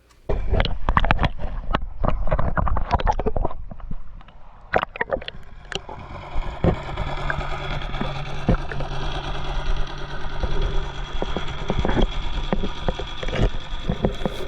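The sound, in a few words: boat engine heard underwater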